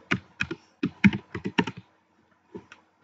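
Someone types a terminal command on a computer keyboard in a quiet room. The keystrokes come in a quick, uneven run of clicks, then stop, then resume with a few isolated taps near the end.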